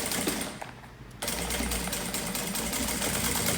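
A straight-stitch sewing machine runs in short backstitch bursts while stitching a wallet that converts into a bag, its rapid mechanical needle chatter close and steady after a brief pause.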